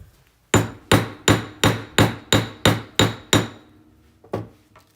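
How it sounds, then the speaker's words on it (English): A hammer strikes a silver jewelry jump ring setting nine times in an even, sharp rhythm, then twice more after a short pause, each blow ringing briefly and close. "So hammer that"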